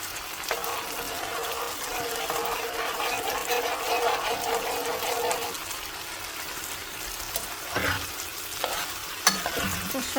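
Bottle gourd peel frying with egg in a pan, a steady soft sizzle with spatula stirring and scraping, a few sharper knocks near the end; no talk.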